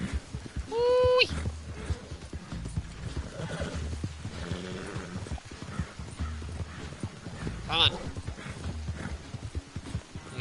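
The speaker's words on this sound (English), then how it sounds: "You're a beautiful horse, you're a great horse, you're a good horse, you're a beautiful horse." Rhythmic clip-clop of a horse's hooves in the Western video game Red Dead Redemption II, steady and close, with a brief neigh near the start and a voice speaking over it.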